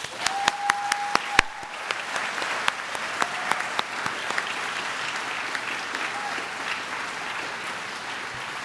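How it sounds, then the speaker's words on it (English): Audience applause for school staff at the Gann Academy 2025 commencement: a steady wash of many hands clapping, with a few sharp nearby claps standing out and brief voices mixed in, fading slightly toward the end. "Please join me in giving them a round of applause."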